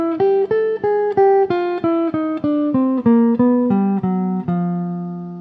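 Jazz guitar plays the first measure of a lick as a run of about a dozen clean, evenly picked single notes that step downward in pitch, the last note left ringing, close and alone.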